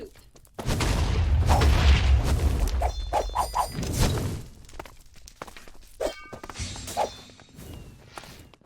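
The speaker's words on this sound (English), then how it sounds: "Shooting fireballs" Fireballs blast in a video game as a long, loud roaring burst, followed by a series of shorter whooshing impacts and thuds with faint game effects underneath.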